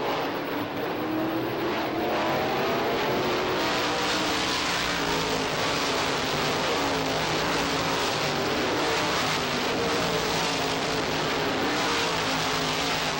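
ISMA supermodified race cars racing at Lee USA Speedway on the 1990 opening day, a loud, unbroken engine roar from the pack circling the track, steady throughout with no voices.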